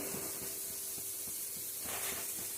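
Paneer frying lightly in a pan for a paneer and chickpea dish gives a steady, fairly quiet sizzling hiss, with faint regular scraping or stirring taps beneath it and no voices.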